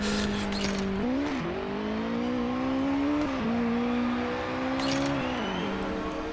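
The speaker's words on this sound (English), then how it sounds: "This is a tutorial that will give you all the basics of driving a race car." A race car engine in the Hot Lap Racing video game on Switch drones steadily at close range, its pitch shifting with several gear changes and throttle adjustments.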